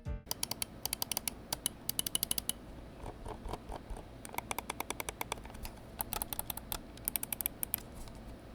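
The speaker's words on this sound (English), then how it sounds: "This uses the Nordic 52840 microcontroller and the Raisha optical switches, which sounds like this." Sharp clicks from the optical switches of a RAWM ES21PRO gaming mouse, built with a Nordic 52840 microcontroller and Raisha optical switches, come in close, crisp bursts and quick runs, with no talk.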